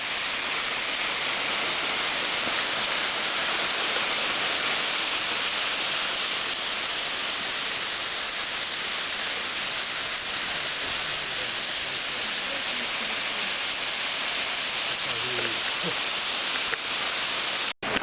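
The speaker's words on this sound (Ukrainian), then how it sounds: "а так от починається Манявський водоспад" Rushing water of the Manyava waterfall, a stream running down into a falling river, fills the scene with a steady, close, broadband roar that holds evenly throughout before cutting off abruptly at the end.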